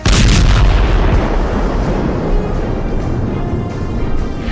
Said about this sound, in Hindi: एक कार गुजरती है और फिर होता है धमाका